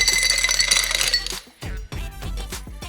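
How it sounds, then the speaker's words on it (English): Ice clinks and rattles into a hurricane glass after a ringing tone, several bright knocks tumbling close by, then settling. "Next add ice."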